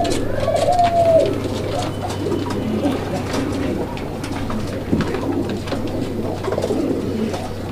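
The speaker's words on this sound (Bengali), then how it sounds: "একদম মাশাআল্লাহ ভরপুর ডাকের কবুতর" A male Raj-Golla pigeon coos in repeated low, throaty rolling calls, close by, with faint background murmur and rustling.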